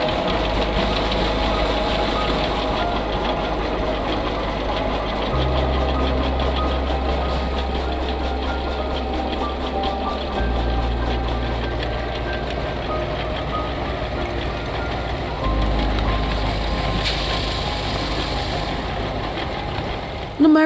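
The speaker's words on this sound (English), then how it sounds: "Finally, the engine revs and milling begins." An engine-driven rice mill in a rural shed runs loud and steady, its engine revving and droning continuously with a knocking, vibrating throb as milling proceeds, and the pitch shifts a few times as the load changes.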